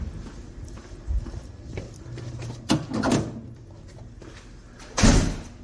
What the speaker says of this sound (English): wait, let me shut this door